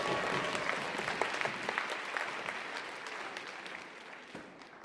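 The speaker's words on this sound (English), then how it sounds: "One more round of applause to everybody for your learning." Audience applause at the closing ceremony of the USA Chidon Ha'Tanach national Bible contest finals, a dense, steady crowd clapping that fills the hall for the whole stretch and tapers slightly toward the end.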